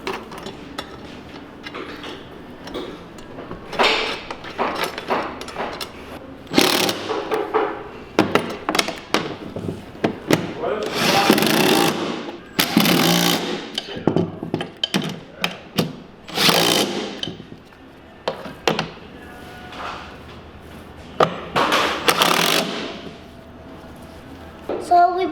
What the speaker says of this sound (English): So let's grab some bolts, Kaiden, and bolt this thing up